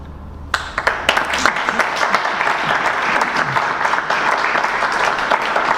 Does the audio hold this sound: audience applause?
yes